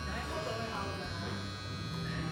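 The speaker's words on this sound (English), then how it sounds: "Oh, it's printing." A small portable photo printer feeds out a picture with a continuous buzzing motor whir, fairly faint and close, while a person talks over it.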